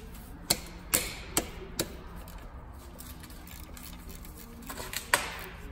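A wrench cracks loose bigger transmission bolts on a Lexus IS300 during automatic transmission removal, giving a series of sharp metallic clicks and snaps, several early and a few more near the end, fairly faint.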